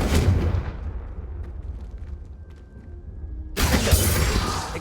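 A Confringo blast spell in the wizarding game Hogwarts Legacy, a loud explosive burst that fades into a rumbling tail, then a second heavy blast erupts and roars on.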